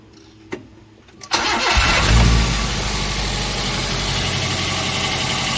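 A few clicks, then a used car's engine cranks and catches with a loud burst, settling into a steady, smooth idle close by at a car dealership.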